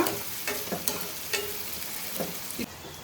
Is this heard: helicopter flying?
no